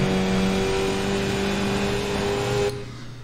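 Skip Barber race car engine in a racing video game at Oulton Park International, holding a steady loud drone with harmonic tones that shift slightly, then the revs drop sharply near the end as the driver brakes and downshifts.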